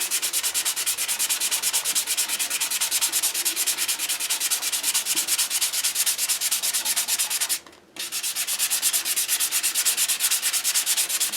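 Rapid, rhythmic rasping of 220-grit sandpaper worked around a wooden Native American flute, close and steady, with a brief pause near the end before the strokes resume.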